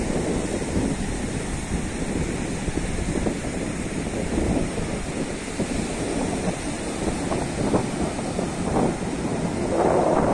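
Sea waves roll onto the quiet, empty shore of Rel beach near Ganpatipule, a continuous loud wash of surf mixed with wind buffeting the microphone, with no voices.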